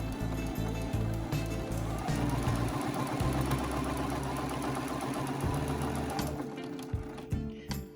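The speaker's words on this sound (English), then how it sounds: "This right here is just a reverse stitch to strengthen that ending right there." A sewing machine runs steadily and close up while reverse stitching the end of a seam on a pillow, with its needle thumping in a fast, even rhythm that slows briefly near the end.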